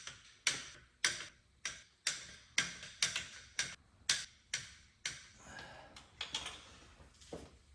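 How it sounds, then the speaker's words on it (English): Torque wrench clicking as bolts on a Lincoln Town Car engine are tightened in sequence, a series of about a dozen sharp, evenly spaced clicks, close and fairly quiet, with no talk. "torquing on the left-hand side of the car is tough because it's harder to get the leverage that you need from this angle"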